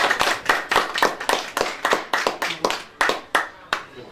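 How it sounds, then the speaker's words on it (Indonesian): A small group clapping hands together at a family handover ceremony, a loud, close, rhythmic series of about a dozen sharp synchronized claps, evenly spaced and slowing slightly toward the end. "kita tepuk tangan dulu"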